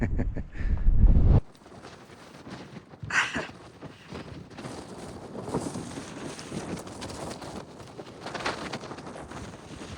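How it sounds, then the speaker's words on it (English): Wind on the Pen y Fan ridge in the Brecon Beacons, a heavy gust buffeting the microphone at the start, then a steadier, rougher breeze rushing and flapping for the rest. "even in the wind"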